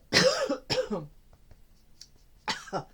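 Two sharp coughs come close together, followed by a brief pause with faint sounds and two more coughing bursts.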